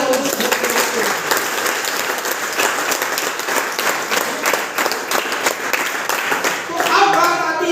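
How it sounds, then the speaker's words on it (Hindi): An audience at a network marketing motivational talk claps loudly and steadily for several seconds. The dense applause keeps going without a break. "एक बार उनके लिए जोरदार तालियां हो।"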